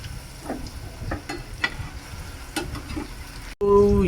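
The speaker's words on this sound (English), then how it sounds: "So you fry until both sides a bit brownish, more or less cooked already" Lampung Sumatra style tapioca cakes fry in a big flat pan, a soft hiss of oil with scattered pops and light scraping, close, ending in a sudden louder clatter.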